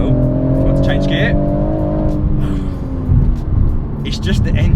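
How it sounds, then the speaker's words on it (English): BMW M140i engine droning steadily while driving on country roads, a sustained low hum with rising harmonic tones, with people talking over it throughout. "It's just the engine sound."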